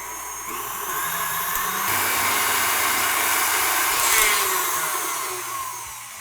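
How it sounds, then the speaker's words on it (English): A stand mixer beats butter with pistachio flavorings into dough for pistachio honey sugar cookies, giving a loud, steady motor whir that swells slightly midway and runs without pause, with no talking. "Next, we're gonna beat those together until they are fully incorporated."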